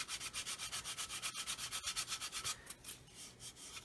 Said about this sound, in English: If you are sanding with a fairly coarse stick, be careful not to do this.